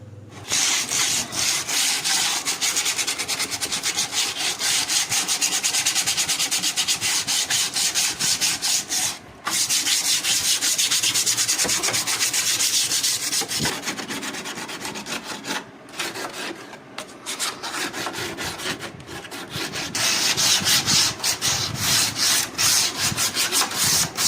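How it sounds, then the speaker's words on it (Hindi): Sandpaper rubbed by hand over an old wooden home temple, a steady scratchy rasping that runs close and loud almost without pause, with brief breaks around 9 and 16 seconds. "पहले सैंड पेपर से इसको अच्छी तरह से घिसूँगी, उसके बाद इसको कलर करूँगी।"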